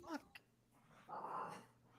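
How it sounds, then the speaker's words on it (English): Several dogs bark and whimper in short bursts early on, then a longer whining, yelping stretch swells near the end, fairly close and moderately loud, with a person talking over parts of it. "these dogs are going crazy"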